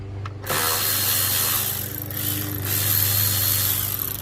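10 mm ratchet working an intake boot clamp on a 2002-2003 Nissan Maxima, a short clicking start followed by a steady mechanical whir over a constant low hum, close up with no talking.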